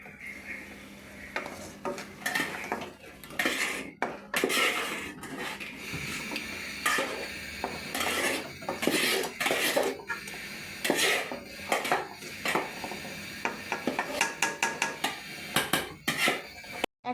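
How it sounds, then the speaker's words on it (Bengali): Stirring a thick nut, chilli and raisin paste in a pan for egg korma: a steady run of scraping and clinking spoon-on-metal strokes, close and fairly loud, with a faint sizzle beneath and no talking. "যতক্ষণ না তেল না উঠে আসে ততক্ষণ পর্যন্ত এটাকে নাড়বো"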